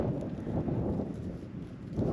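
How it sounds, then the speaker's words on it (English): Wyoming wind buffets the microphone in a steady, dense low rumble with gusty swells, close and fairly loud, with no voices. "Wyoming wind, it's here."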